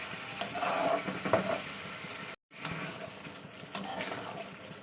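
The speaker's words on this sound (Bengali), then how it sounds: "তো একটু নাড়াচাড়া করে অল্প একটু জল দিয়ে দেবো।" Eggs in a pan give a soft, quiet sizzle as a little water is added and stirred, with faint scraping and liquid noise, broken by a brief gap of silence midway.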